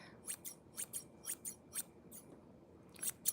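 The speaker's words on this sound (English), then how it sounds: "Let me just cut off these strands here." Scissors snipping strands of hair close to the ear, a quick run of crisp, high metallic snips in irregular pairs over a quiet background, with no voices.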